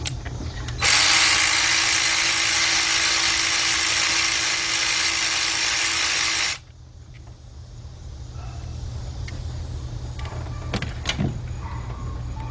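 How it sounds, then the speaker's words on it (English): Cordless impact wrench hammering at oil pan bolts on a 2005 Cadillac CTS 3.6, one loud, steady burst of about six seconds, then stops abruptly, leaving a low hum, a quieter motor-like drone and a few faint clicks. "I'm going to switch over, guys, to my cordless impact"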